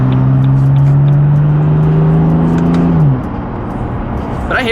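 A BMW F82 M4 fitted with VRSF front mount intakes revs hard with a rising, droning engine note for about three seconds, then drops off into quieter road noise.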